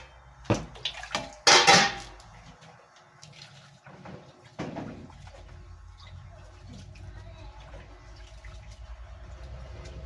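Rice being washed in water before cooking over a wood fire, with a few sharp splashes and pours early on, then a steady low swirling of water in a pot, close by and without talk.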